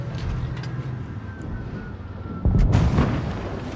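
A tank cannon fires in the World of Tanks Blitz game, a single deep boom about two-thirds through, over a low rumbling engine drone with no talking.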